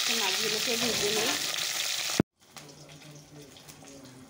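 Katla fish sizzling in hot oil, a dense close crackle with faint tonal sounds, cut off abruptly halfway and followed by a much quieter, thinner sizzle and light kitchen noise.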